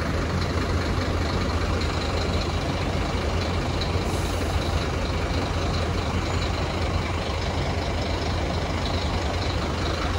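A Sampaio company bus at the Belo Horizonte bus station, heard as a steady loud engine drone with broadband rumble and hiss filling the whole stretch, no voices.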